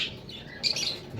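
Pet lovebirds give a few short chirps and a brief squawk close by, the calls sparse and fairly soft against a faint background hiss.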